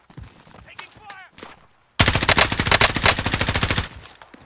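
Rapid automatic gunfire in Call of Duty: Warzone, a loud, dense burst of fast repeating shots lasting about two seconds, preceded by quieter voice chatter and game sounds.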